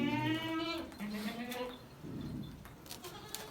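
A goat bleats loudly up close in a few wavering calls, followed by quieter outdoor rustling and faint distant sounds.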